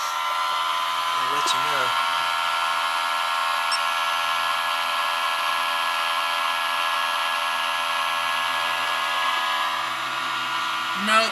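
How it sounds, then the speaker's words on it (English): A vehicle's electric fuel pump runs with a steady, high-pitched whine and hum throughout, nearby, while someone speaks briefly near the start. "So you can hear the fuel pump going."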